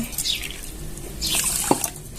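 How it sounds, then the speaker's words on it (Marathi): One and a half cups of water poured into a pan for a sugar syrup, a close, brief splashing pour with a sharp knock near the end, no talking. "इथं दीड वाटी आपल्याला पाणी घालून घ्यायचे"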